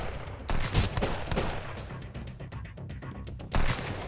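Gunfire in the survival video game Sunkenland: a loud burst of shots at the start, a rapid spatter of fainter rounds trailing off, then another heavy blast near the end.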